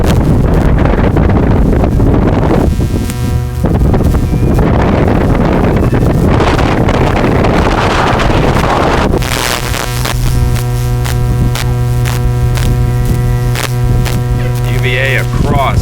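Strong wind buffets the microphone in loud rushing gusts during a women's second varsity collegiate rowing race between Princeton, Radcliffe, UVA and Cornell, with a steady hum underneath and brief voices.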